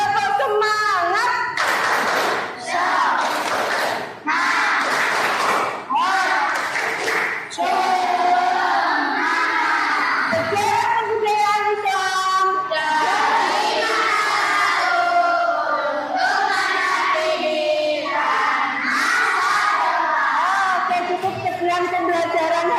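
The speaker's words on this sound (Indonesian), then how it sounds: "sebelumnya tepuk semangat dulu biar lebih semangat" A school class performs a rhythmic spirit clap chant together, bursts of synchronized clapping and loud group shouting from many young voices, close and energetic throughout.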